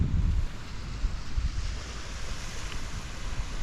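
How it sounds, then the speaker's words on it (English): Waves wash steadily onto a local beach, a broad, continuous rush with heavier surges at the start, mixed with rumbling wind buffeting the microphone and no voices. "This is my local beach."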